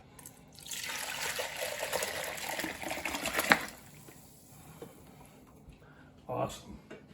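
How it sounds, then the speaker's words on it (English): Hot turkey broth pours into a pot with a steady, splashing liquid rush for about three seconds, then quiets; a brief voice is heard near the end. "Meanwhile, the broth is going to go in this pot."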